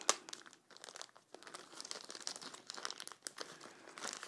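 A plastic parts bag for a sliding ladybug toy is torn open and handled up close, giving a steady run of crinkling and crumpling with a few sharper tearing bursts over about four seconds.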